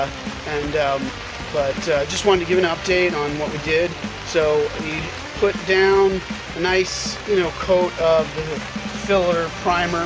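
Rain falling outside, a steady patter under someone talking close up throughout.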